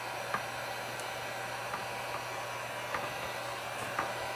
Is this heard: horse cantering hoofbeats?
no